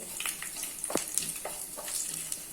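Faint crackling and sizzling of whole spices in hot oil with a few soft stirring clinks, steady and low throughout.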